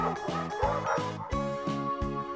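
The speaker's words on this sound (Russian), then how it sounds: "Собака." A dog gives a quick run of short yipping barks, about six evenly spaced, close and clear with no talk over them.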